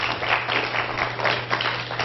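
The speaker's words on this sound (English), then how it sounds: "How many people have seen this on TV by applause?" Audience at a UFO conference claps in a moderately dense burst, steady and close, with a low hum running beneath.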